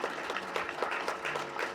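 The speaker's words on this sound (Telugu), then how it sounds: "గట్టిగా మీరు దయచేసి క్లాప్స్ కొట్టాలి" At a birthday celebration event, a crowd claps in a dense, moderately loud burst of applause that holds steady without a break.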